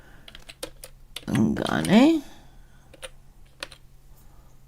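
Keys on a computer keyboard give scattered light clicks, a few at a time with pauses, while a person speaks briefly in the middle.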